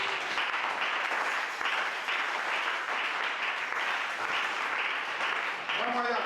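A church congregation claps steadily and continuously, a dense, even wash of applause that carries on without pause from start to finish.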